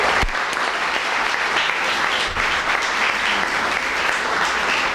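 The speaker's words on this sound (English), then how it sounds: "One more clap for all of them." A crowd at a Sierra Club event on coal plants gives the panelists sustained, dense applause, an even roar of clapping lasting the whole stretch.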